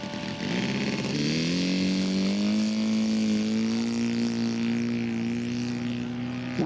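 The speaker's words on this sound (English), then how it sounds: "Don Irwin taxiing out with his laser for his last fly of the day on Saturday" A scale model aircraft, a Laser, taxis out for its final flight of the day at a scale aircraft show, its engine buzzing loud and close, rising in pitch and then holding a steady drone.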